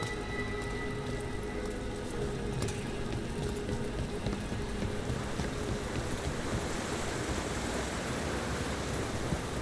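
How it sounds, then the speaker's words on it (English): A waterfall in the Dragon Age: The Veilguard video game gives a steady, full-bodied rushing roar that stays even and unbroken throughout, with no voices over it. "By the waterfall."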